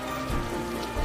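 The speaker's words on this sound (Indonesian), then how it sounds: "sambil diiringi derasnya air hujan" Heavy rain in a film scene, a dense steady patter of drops on surfaces with no talking, loud and continuous throughout.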